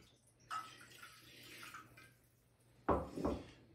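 Water is poured into a container for a salmon brine in two short splashing bursts, close and fairly quiet, with a soft trickle between them.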